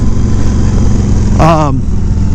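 A Yamaha V Star 1100 Custom cruiser motorcycle engine rumbles steadily at a low idle-like drone throughout, with a short voice breaking in briefly over it.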